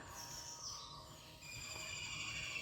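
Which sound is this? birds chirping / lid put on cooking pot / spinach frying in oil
birds chirping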